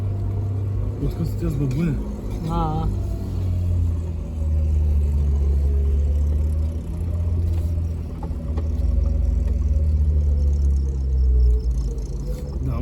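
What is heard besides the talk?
4x4 engine revving on off-road trail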